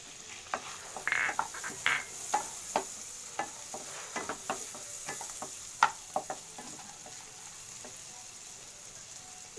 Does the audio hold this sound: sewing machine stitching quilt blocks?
no